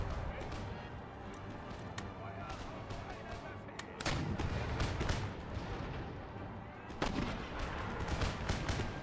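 Musket volleys from line infantry facing Grenadiers in Empire Total War, repeated sharp reports and rolling gunfire over a constant low battlefield rumble, with several loud cracks standing out.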